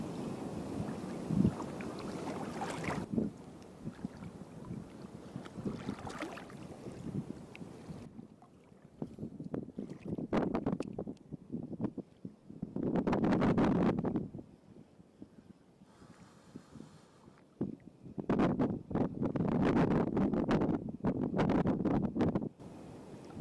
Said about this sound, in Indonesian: Awan mendung, mulai angin.